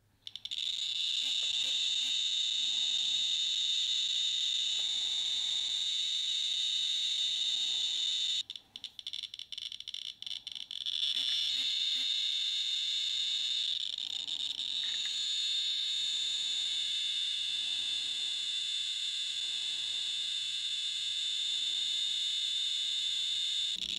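A Radiacode 101 radiation detector alarms near americium smoke-detector buttons, sounding a continuous shrill high-pitched tone that briefly breaks off partway through and then resumes, close and steady with no talk.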